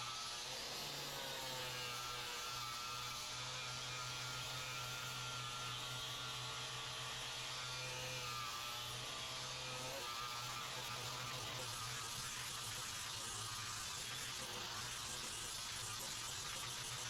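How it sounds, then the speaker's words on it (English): A brushless grinder fitted with an ENDURO-FLEX Turbo flap disc grinds metal in a continuous, loud, steady whine that runs unbroken for the full length, with no talking. "the ENDURO-FLEX Turbo flap disc allowed for very fast material removal rates while generating minimal heat and also low vibrations"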